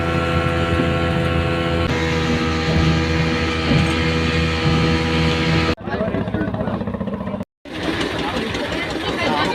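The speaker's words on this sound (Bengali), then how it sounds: "প্রতিযোগিতাভাবে দুইটা সি বোট মহেশখালীর উদ্দেশ্যে ছেড়ে যাচ্ছে" A sea boat's engine drones loud and steady on the crossing from Cox's Bazar to Maheshkhali, with a constant rumbling throb, a brief dropout, then the engine noise returns; no clear talk over it.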